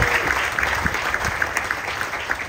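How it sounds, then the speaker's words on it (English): Audience at a community book event applauding a speaker's family, with steady, dense clapping throughout at moderate loudness. "give them a big round of applause"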